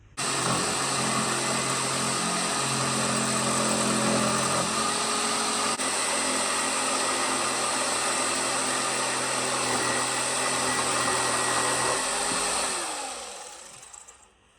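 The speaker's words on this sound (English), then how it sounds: "I'm gonna hit it with sand real quick with my oscillating tool, just to get that Z shape out of there" An oscillating multi-tool sands an old, rotted wooden barn door about 122 years old, a loud steady buzzing whine that runs nearly unbroken, close up, before winding down and stopping near the end.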